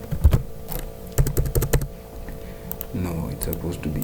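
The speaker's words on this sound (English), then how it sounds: "I'm going to type the code, the HTML code on the first file" Someone types HTML code on a computer keyboard, quick clusters of close, crisp key clicks with short pauses, and a voice talking over the clicks.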